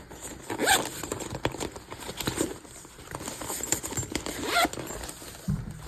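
A zipper on a sewn bag's pocket is pulled open and shut several times, quick raspy zips close by with soft handling rustle between them.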